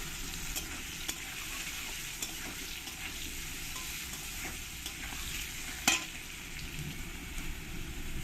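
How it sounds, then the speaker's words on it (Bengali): Potatoes fry in a pan to a crisp finish, a moderate continuous sizzle with scattered small pops and clicks, one sharper clatter near the end. "আলুগুলোকে একটু কড়া কড়া করে আমি ভেজে নেব"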